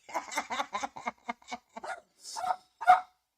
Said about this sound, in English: Hold on, let me let the dog out.